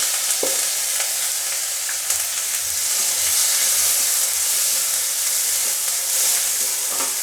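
Tomato frying in hot oil with cardamom in a pan, a steady loud hiss of sizzling that holds evenly throughout, broken by a few faint clicks of a utensil against the pan.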